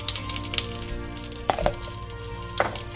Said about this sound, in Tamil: ஸோ கீ வந்து இப்போ நான் ஆட் பண்ணிக்கிறேன்